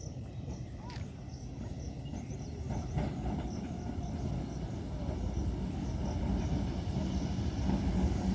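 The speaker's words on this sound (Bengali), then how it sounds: "বারো কোচের ট্রেন আসছে।" A twelve-coach local train pulls into a crowded station on the Digha line, its steady low rumble of wheels and carriages swelling gradually and holding close and loud, with no voices over it.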